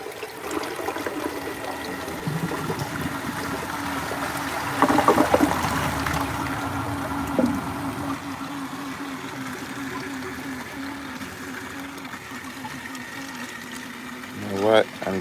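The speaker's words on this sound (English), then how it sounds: "I'm gonna flush it normal flush." A collector's toilet given a normal flush: a steady rush of water swirls and drains under ongoing talk, with a brief louder surge midway and a refill gurgle near the end.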